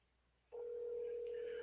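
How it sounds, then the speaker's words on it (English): A telephone dial tone starts abruptly and holds a steady, unbroken hum while a call is being placed, quiet and close. "Let me call Amos."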